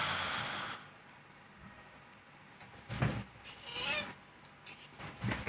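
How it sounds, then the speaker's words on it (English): Domestic cat yelling indoors: loud drawn-out yowls rising in bursts, one long cry followed by several shorter howls over a quiet room background. "my cat yells"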